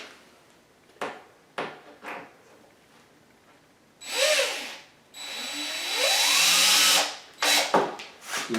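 A power drill drives a screw into separating layered plywood during a rental attic access remodel. Two close whining motor bursts rise in pitch, with scattered clicks and handling knocks around them and no talk.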